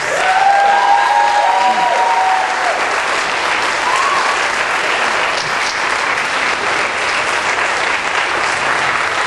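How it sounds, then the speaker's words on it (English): A rally crowd breaks into loud sustained applause, a thick roar of many clapping hands with a few cheers and whistles near the start, tapering gradually over several seconds. "you should give yourself a round of applause for caring about the students"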